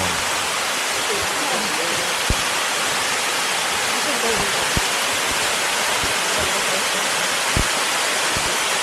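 Waterfall in the Heullimgol valley of Seoraksan, a steady broadband roar of falling water, close and loud throughout, with a few faint clicks.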